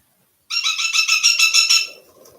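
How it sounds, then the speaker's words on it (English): A pet bird chatters in a quick, loud burst of repeated bright calls, close and clear in a quiet room, then fades into softer low chuckling notes. "My bird loves to chat in the afternoon."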